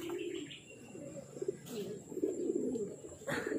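A grizzle racing pigeon coos in low, repeated throaty rolls close by, with faint chirps and background noise between the calls.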